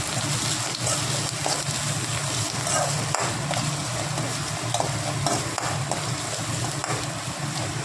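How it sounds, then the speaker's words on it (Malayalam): Mango pickle stirred in a hot pan gives a steady scraping, sizzling churn that continues unbroken, close and fairly loud. "ഇതേ ഒന്ന് മിക്സ് ചെയ്യാം"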